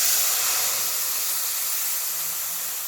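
Nigella seeds and dried red chillies sizzle in hot oil for a mustard pomfret curry, a steady loud hiss that fades slightly over three seconds with no talk.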